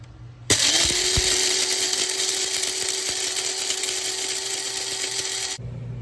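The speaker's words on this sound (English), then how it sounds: "we're gonna grind it up and we're gonna make coffee" Roasted dandelion root being ground for coffee in an electric grinder that starts abruptly, runs as a loud steady whine for about five seconds, then cuts off.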